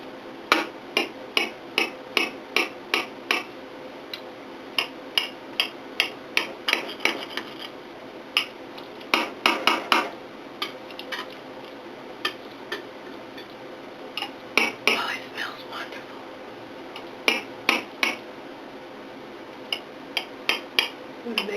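A knife taps and scrapes repeatedly against a hot baking dish while slicing through eggplant casserole, a long series of sharp, bright clicks at an irregular, fairly quick pace, close by with no voices.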